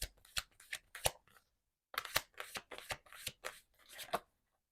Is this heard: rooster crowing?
no